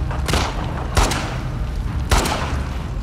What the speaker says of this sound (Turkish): dibinde bomba patladı. Arkadaşı paramparça oldu.